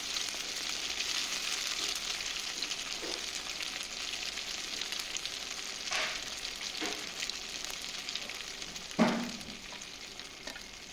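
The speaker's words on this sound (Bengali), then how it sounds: "এখানেও আমি দিয়ে দিচ্ছি ওই চিকেন আর মাশরুমগুলো, এগুলোকেও আমি ভেজে নেব।" Chicken and mushroom pieces fry in oil in a wok, a quiet continuous sizzle broken by a few soft knocks and one sharper utensil clack near the end, with no talking.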